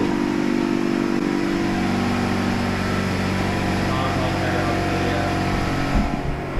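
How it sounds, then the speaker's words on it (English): An air compressor runs steadily near a shop area stocked with climbing ropes and straps, putting out a loud, unbroken mechanical drone with a constant hum that barely changes for the whole stretch. "I'm gonna use this air compressor anyway"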